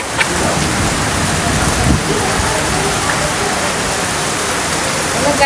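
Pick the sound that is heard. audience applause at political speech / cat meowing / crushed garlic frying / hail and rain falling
hail and rain falling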